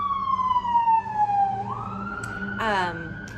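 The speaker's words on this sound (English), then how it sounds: "there's a siren going by" A siren wails nearby, its pitch sliding down then rising again, with a short burst of other noise near the end; loud and steady.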